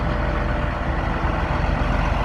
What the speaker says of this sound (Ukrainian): Маємо до продажі отакий гарненький тракторець.